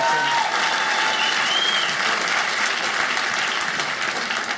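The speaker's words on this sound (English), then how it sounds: "Give Jason a big round of applause" Comedy club audience giving a round of applause for a man named Jason at a stand-up show, a dense, steady burst of many hands clapping at close range that tapers slightly at the end.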